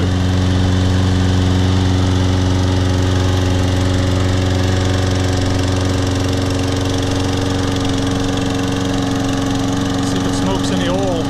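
Loud and close, a Toro Personal Pace Recycler lawn mower runs steadily after a carburetor cleaning, its small engine droning evenly throughout while a person talks over it.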